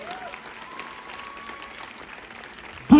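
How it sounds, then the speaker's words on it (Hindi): Audience applause in a hall during a motivational business gathering, a steady mid-level wash of many hands clapping with faint voices mixed in, ending in a sudden louder burst. "एक बार अपने उस अपलाइन के लिए तालियां जरूर बजाना"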